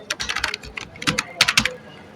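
Rapid typing on a computer keyboard to enter a Bengali name into a registration form, with two close bursts of clicky keystrokes separated by a short pause.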